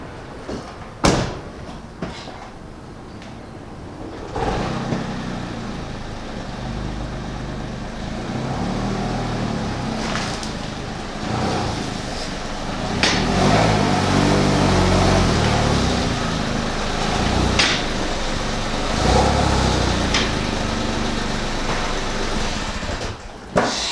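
A Smart car is driven onto a car lift in a workshop: a steady low engine drone and rolling rumble for about twenty seconds, with a few sharp knocks and clunks near the start and end.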